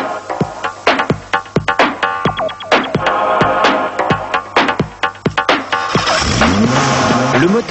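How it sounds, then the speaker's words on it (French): Turbocharged 3-litre PRV V6 engine of a Helem V6 car revving in a series of sharp, loud blips, close by, with a rising and falling whine at the end. "Le moteur, c'est le bon vieux V6 PRV dans sa version 3 litres turbo compressé."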